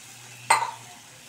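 Water is poured into sizzling tomato masala in a pan, setting off a single sharp hiss that fades into soft bubbling within a second.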